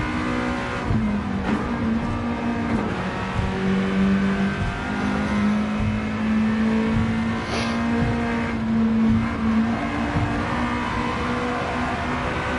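A race car engine in the Gran Turismo racing game revs steadily and loudly for the whole stretch, a sustained game-engine drone with rising and falling pitch.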